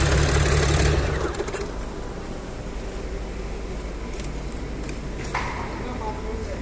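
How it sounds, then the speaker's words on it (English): An Audi V6 engine running roughly and not operating correctly, giving a steady, uneven mechanical rumble that is louder for the first second and then settles into a continuous idle. "engine is not operating correctly"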